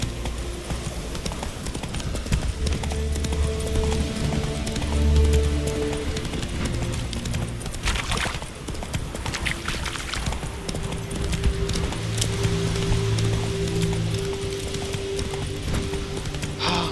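Rhythmic horse hoofbeats in the video game The Witcher 3: Wild Hunt clip-clop steadily at a gallop for the whole stretch, with a low droning background and occasional brief rustles.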